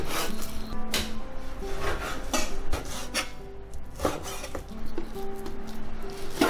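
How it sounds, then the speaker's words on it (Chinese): A knife chops beef into mince on a wooden board, with quick, irregular thuds and scraping rubs following one another near at hand, and no talking. "牛肉我们给它切小块，然后剁碎。"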